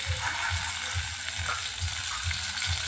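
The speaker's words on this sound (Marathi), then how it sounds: "तेल छान गरम झालंय, त्यामध्ये आता आपण कोथिंबीर" Fresh coriander hits hot oil in a pan while an egg curry masala is being made. A loud, steady sizzle and crackle runs throughout, with soft rhythmic pulses underneath.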